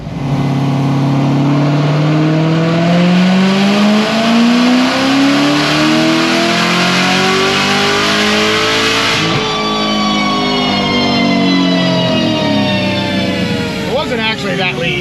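A Stage 5 RPM-built C7 Corvette Z06 V8 screams through a full-throttle pull on a dyno, pitch climbing steadily for about nine seconds before dropping off and briefly revving again, loud and close.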